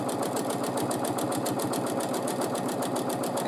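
A sewing machine runs steadily during free motion quilting, its needle hammering in a fast, even rhythmic chatter, close and continuous with no pauses.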